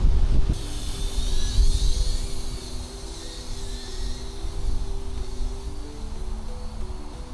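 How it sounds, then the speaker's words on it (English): Strong gusty wind roars across the microphone outdoors, a loud continuous rumble of low buffeting that swells and eases throughout, with a faint high whine of a small GEPRC Darkstar 16 drone flying in the distance. "I'm having to virtually shout over the wind. It's that windy."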